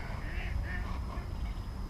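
Ducks quacking near a muddy, reedy bank where a bass angler is fishing, several nasal calls over a constant rumbling background, moderately close.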